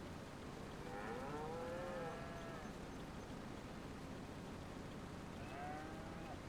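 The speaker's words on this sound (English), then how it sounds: "Oh, look at the little calf." A young calf in a farming video game moos several times, drawn-out lowing calls in a short cluster and then once more, over a steady soft background hiss.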